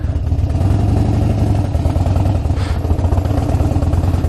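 A Harley-Davidson Street Bob, a US-market model, being ridden on a cool day of about 10 degrees: a steady, loud, low engine rumble that throbs on continuously without a break.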